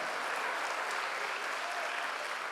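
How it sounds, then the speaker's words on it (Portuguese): Congregation applauding in a Baptist church service, a dense, steady wash of many clapping hands that fills the whole stretch without a break or any clear talk on top. "Aplauda o Senhor."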